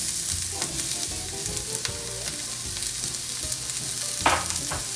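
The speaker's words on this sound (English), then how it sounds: "We're gonna brown the onions up." Onions browning in oil in a pan sizzle and fry steadily and close up, with occasional stirring scrapes and clatters over the continuous hiss, no talking.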